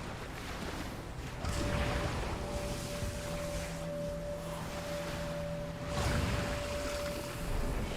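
Waves surge and break in World of Warcraft's Argus Update, a steady washing roar with two louder crashes, under a held tonal drone.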